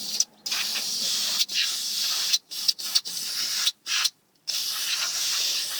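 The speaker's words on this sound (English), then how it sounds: "So I'm going to go ahead and spray some little freeze off here." Freeze-off penetrating spray hissing onto a brake caliper during a front pad and rotor job on a 2004 Volvo XC90, close and fairly loud in several bursts of varying length separated by short pauses.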